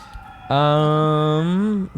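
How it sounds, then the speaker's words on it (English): A siren wails outside in a single steady, loud tone that starts abruptly and holds, with a faint voice just before it. "Sirens are on and So many sirens. I'll wait till they pass."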